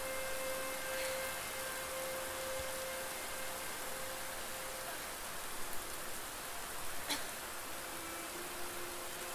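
Heavy rain falls in the video game Bramble: The Mountain King, making a steady, dense hiss that holds evenly throughout, with faint tones from the game's ambience beneath it.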